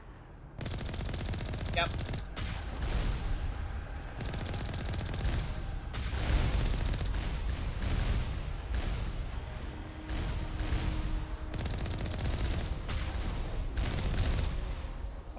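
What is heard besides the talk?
turret gunfire in video game Mass Effect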